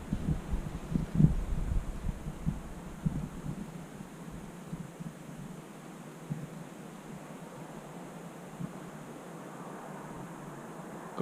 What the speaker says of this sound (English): Got a back wind tonight as well, which is just nice. Cracking breeze blowing as well